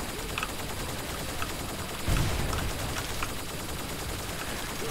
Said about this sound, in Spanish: Se han hartado los drones de disparar.